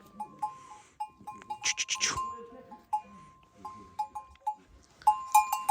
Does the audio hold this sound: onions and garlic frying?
no